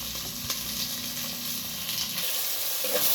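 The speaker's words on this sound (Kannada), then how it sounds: "ಈಗ ಟೊಮೆಟೊವನ್ನು ಹಾಕೊಳ್ತಾ ಇದ್ದೇನೆ" Chopped tomatoes go into onions already frying in a pan for a Tulu-style fish curry, giving a steady broadband sizzle with a soft plop near the start that quiets slightly toward the end.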